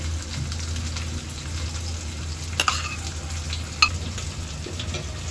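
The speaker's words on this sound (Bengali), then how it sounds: "এবার আদা রসুনের পেস্ট দিচ্ছি, এই আদা রসুনের পেস্ট" Ginger garlic paste hits frying meat in a pan for a steady, low sizzle over a constant hum, with two brief clinks of a utensil partway through.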